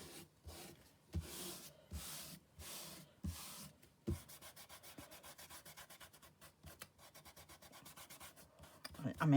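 Bits of dried glue are rubbed off with a napkin: soft, close scrubbing strokes, slow and spaced at first, then a faster steady back-and-forth rasping, all quiet with no talk.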